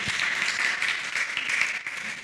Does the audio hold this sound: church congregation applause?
yes